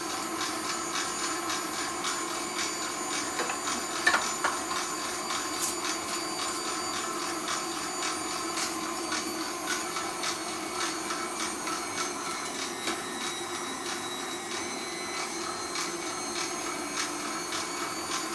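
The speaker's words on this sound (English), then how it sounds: "So we're going to put our KitchenAid on 4. We're just going to start putting this down the chute." KitchenAid stand mixer on speed 4 grinding meat for Italian sausage, a steady mechanical whir with a constant motor tone and faint rattles throughout, no voices.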